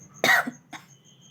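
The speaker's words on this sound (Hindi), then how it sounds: "सॉरी, खाँसी आ रही थी।" A single harsh cough burst, close and fairly loud, followed by a short softer catch and a second, weaker cough, all over a faint low background hum.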